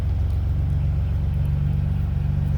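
A 1993 Nissan twin-turbo engine runs close by with a steady, loud low rumble as the gas is pressed, holding an even idle-like drone without a clear rising rev.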